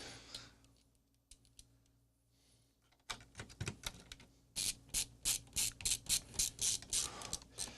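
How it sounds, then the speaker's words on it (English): Screws being driven back into the case of a Toshiba T1600 286 laptop, with a quiet stretch of small clicks followed by a steady run of rhythmic ratcheting screwdriver clicks, close up and fairly loud. "Let's reverse all the screws."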